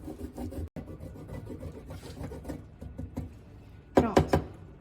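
A white rubber eraser is rubbed on a kitchen grater over a sheet of paper, giving close, rapid rasping strokes that grow sharper and louder near the end.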